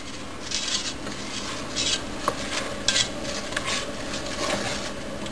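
A spoon stirs a boiling no-bake cookie mixture in a pot, giving steady scraping and rubbing strokes with faint metallic clinks against the pan. It sounds close and moderate in level, with no talk.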